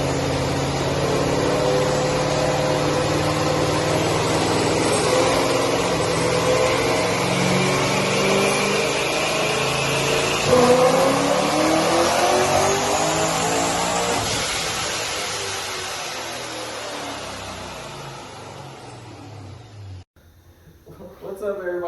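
A 2013 Chevrolet Caprice PPV with a P1SC ProCharger at 10 psi, LT headers and Magnaflow mufflers makes a long loud dyno pull on E85, with engine pitch climbing steadily before cutting off abruptly and a voice talking over it.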